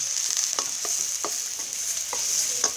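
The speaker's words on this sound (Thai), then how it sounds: "ก็เอากระเทียม กับถั่วเน่าแผ่นที่ผมตับอย่างนี้ครับลงไปผัด ใส่น้ำมันนิดหน่อย" Garlic and fermented soybean sheets fry in a little oil, a bright steady sizzle near the pan broken by repeated light scraping strokes of a spatula.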